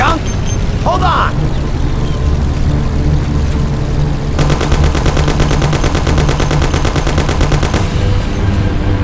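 Gunfire in the PC video game Mafia during a car chase: rapid machine-gun bursts rattle loudly over engine drone and game noise, with a dense sustained volley in the second half.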